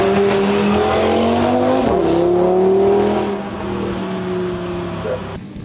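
An Audi TT RS five-cylinder engine is driven hard through corners, its loud, close, sustained drone shifting pitch as the car changes gear, with a faint tyre squeal.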